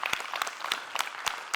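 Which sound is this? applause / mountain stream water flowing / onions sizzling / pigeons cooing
applause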